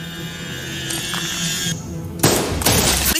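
Rapid bursts of gunfire crackle loudly over a continuous background of movie score in a thriller, with a tonal drone underneath and the shots clustered near the end.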